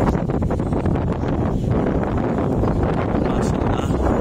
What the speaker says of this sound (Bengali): ওই যে বাসার উপরে প্রচণ্ড বাতাস